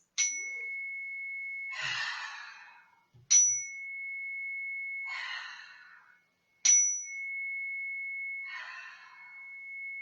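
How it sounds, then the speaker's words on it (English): Three slow, deep breaths during a children's yoga session, each a soft airy exhale spaced a few seconds apart, over a sustained ringing chime tone that restarts before each breath. "we'll take 3 deep breaths together to settle into our practice space"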